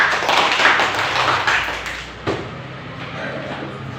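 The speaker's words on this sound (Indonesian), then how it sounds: "Tepuk tangan buat kelompok 4." Classroom students clapping for a group during a lesson, a brief close burst of hand claps that fades after about two seconds, followed by a single knock and quiet room noise.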